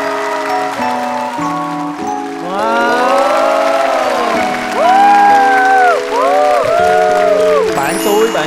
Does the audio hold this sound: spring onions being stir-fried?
no